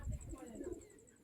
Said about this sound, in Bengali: এই যে সাইডে দেখো আমাদের বাড়িতে অনেক পায়রাও রয়েছে